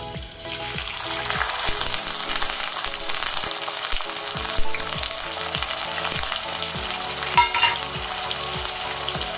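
Onions frying in hot oil in a pan for Indian-style hotel egg curry, a steady loud sizzle with repeated scraping stir strokes throughout.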